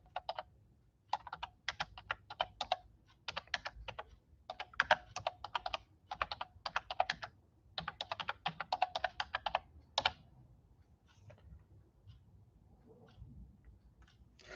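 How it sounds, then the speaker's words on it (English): Someone types on a computer keyboard in a home garage in bursts of quick key clicks separated by short pauses, close and fairly quiet, then trails off into near silence. "So let me see if I can type this on here."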